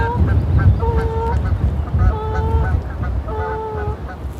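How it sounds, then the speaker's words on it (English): A flock of geese honks repeatedly as it flies past over Loch Ard in Scotland, with several clear calls coming in bursts at moderate distance over a low outdoor rumble. "You can see there's a lot of geese flying in here just behind me."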